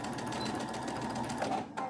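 A sewing machine back-stitches a seam on a silky pleated cravat, a steady, close mechanical whir that runs throughout and cuts off right at the end.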